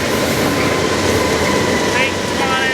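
A passenger train passes at Fullerton with ALC-42 and Dash 8 locomotives on a Comet car set and a cab car at the rear, a steady loud rumble with wheel clatter, faint squeals and a brief voice partway through.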